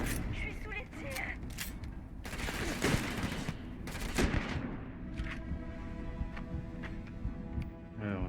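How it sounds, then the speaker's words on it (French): Sci-fi gunfire and mechanical clatter from the video game Starfield, sustained and busy with broadband bursts throughout, a creaking whine and tonal hum under it, with a voice speaking over the action. "Je suis sous les tirs."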